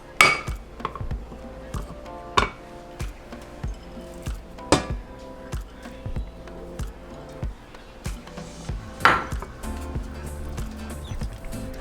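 Nacho cheese sauce with evaporated milk and shredded cheese being stirred in a pot, giving a steady run of utensil clinks and scrapes against the pan at an even, repeated pace, close and moderately loud with no talking.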